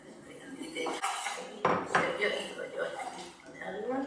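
Walnuts are mixed into cookie dough in a bowl, with utensil clinks and scraping against the bowl in uneven bursts while people talk nearby.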